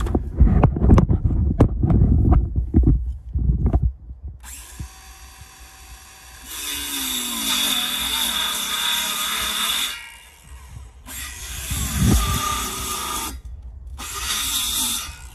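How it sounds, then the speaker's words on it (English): A Ryobi circular saw slices through wood in three sustained bursts, its high whining buzz loud and close, preceded by a few seconds of sharp handling knocks and clatter and separated by brief pauses. "Ryobi using a skill saw"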